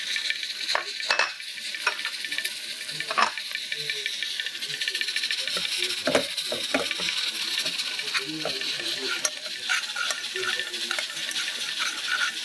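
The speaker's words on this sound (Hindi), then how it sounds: "बेसन मैं भूनूंगी मक्खन में" Gram flour (besan) roasting in about two tablespoons of butter, a steady crackling sizzle broken by frequent sharp scrapes and clinks of a spoon stirring the pan, close and alone.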